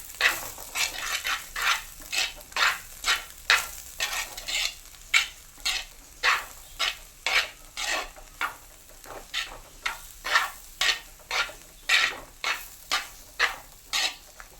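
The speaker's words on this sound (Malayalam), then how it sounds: "ഉപ്പൂടി ഇട്ടിട്ട് നമുക്ക് നല്ലപോലെ മിക്സ് ചെയ്യാം." Spoon stirring and tossing a tuna fish thoran mixture with salt in a pan, Kerala style, making a steady rhythm of scraping strokes, about two per second, with a light sizzle underneath.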